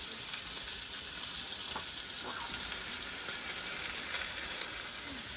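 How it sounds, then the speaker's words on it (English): Pork pieces brown in a pan for a stew, giving a steady, moderate sizzle and crackle with occasional faint clinks, continuous throughout without talk. "we're just going to brown these on both sides for 2 to 3 minutes"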